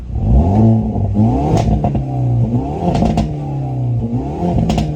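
A 2021 Hyundai Veloster N engine revs and burbles up close, with rapid crackling pops from the factory track exhaust pop tune between throttle blips.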